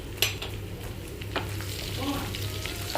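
Green chillies frying in hot oil with mustard seeds, urad dal and fennel give a steady close sizzle, with a few brief utensil clinks and stirring scrapes over the continuous crackle.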